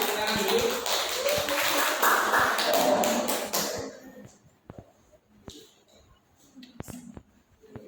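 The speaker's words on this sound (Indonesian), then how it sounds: "Kasih tepuk tangan dulu" A classroom audience applauds a student group, dense clapping for about four seconds that then thins into a few scattered claps and taps in a quieter room.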